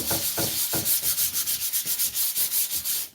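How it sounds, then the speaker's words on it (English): A super fine grit sanding sponge lightly rubs over dried paint, producing a rhythmic series of close, dry scratchy strokes, roughly five per second, steady and alone before stopping abruptly. "So I will take a super fine grit sanding sponge"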